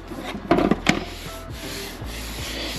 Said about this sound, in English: Now we're just going to give a nice little sand on the edges.